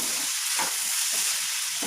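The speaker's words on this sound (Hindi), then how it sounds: "ये ज़ीरा, काली मिर्च और दालचीनी का टुकड़ा ये डाल रहा है। ये भूनने का वक्त है।" Cumin seeds, black pepper and a piece of cinnamon fry in hot oil with a steady close sizzle and hiss, broken by soft stirring scrapes.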